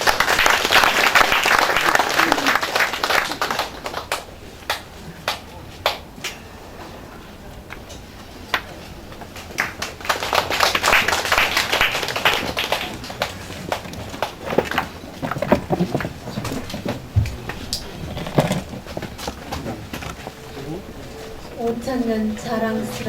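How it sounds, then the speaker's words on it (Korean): Audience at a building completion ceremony claps loudly, then sparser claps and knocks follow before another swell of applause; a voice talks at times over the background. "앞으로 박수로 청해 듣겠습니다"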